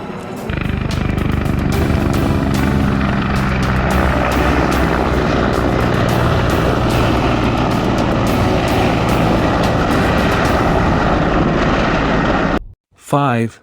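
An attack helicopter roars loudly and continuously, its rotor thudding in a steady beat before the sound cuts off abruptly.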